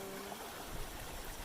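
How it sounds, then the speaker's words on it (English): A small waterfall murmurs inside a hot spring grotto, a faint, steady trickling rush with soft gurgles that stays distant and continuous throughout, with no talking. "And you got a waterfall in here that you can hear."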